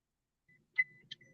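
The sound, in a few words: car seatbelt warning beeping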